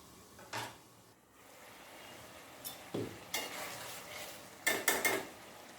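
Spice masala with powdered garam masala sautés in a pan for a lauki kofta curry: faint, scattered spatula scrapes and utensil clinks over a soft sizzle, with a quick cluster of stirring strokes near the end.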